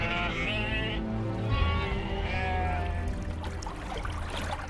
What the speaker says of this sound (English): and raise sheep and goats